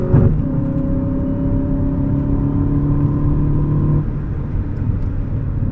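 An Audi A1 40 TFSI hatchback accelerates with a steady, loud engine drone and rising harmonic whine that holds for several seconds before easing off, with road rumble underneath throughout.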